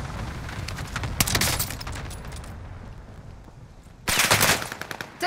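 Bursts of automatic gunfire in a first-person shooter game, a dense rattling volley early on, a lull of softer background noise, then another loud sustained burst near the end.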